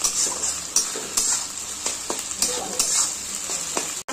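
Mutton curry masala being sautéed in a pan for kala bhuna, with a steady high sizzle and a spatula scraping and stirring in repeated strokes, close and fairly loud, with no voices.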